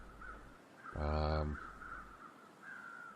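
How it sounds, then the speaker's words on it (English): A single crow caws once, loud and close, in the survival video game The Long Dark, over a low steady wind-like ambience. "Right, next set of crows."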